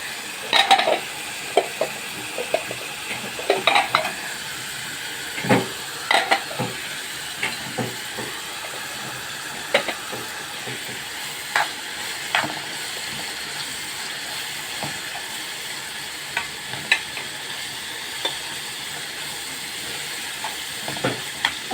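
Peppers fry alongside liver in a hot pan, a continuous sizzle broken by repeated scrapes and clacks from a stirring utensil at an irregular rhythm, close and clear with no talking.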